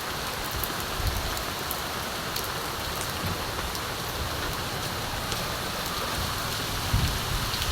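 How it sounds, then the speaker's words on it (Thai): Steady downpour drumming on a nearby surface, a thick continuous wash of rain with a few heavier drops standing out. "ฝนตกหนักมาก"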